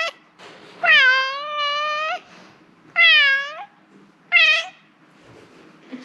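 A house cat meowing loudly and close by, three drawn-out meows separated by short pauses, the first one long and wavering, with no talking over them.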